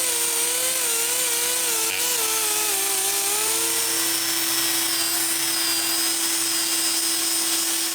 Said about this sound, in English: we just had to grind clean the area behind this front bracket